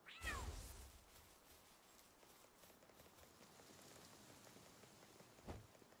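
A cat in a Pokémon avatar video game gives a short, clear meow near the start, over a soft, steady patter of rain that continues quietly behind it.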